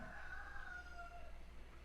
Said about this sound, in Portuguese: E o galo cantou